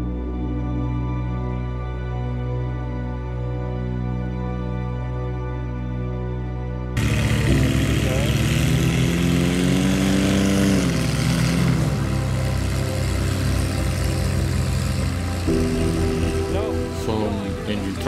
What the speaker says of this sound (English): Some engine trouble, seems to be carburation.